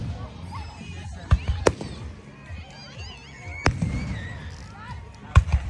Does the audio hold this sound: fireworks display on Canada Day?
yes